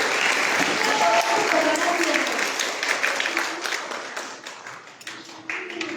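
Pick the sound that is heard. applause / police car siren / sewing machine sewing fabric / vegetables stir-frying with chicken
applause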